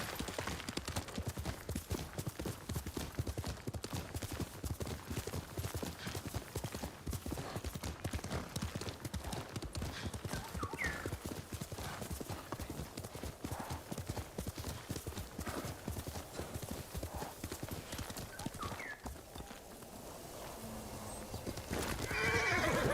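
In a video game, a horse named Kage clip-clops along in a steady rapid rhythm of hoofbeats, then lets out a whinny near the end, fairly close and alone without talk.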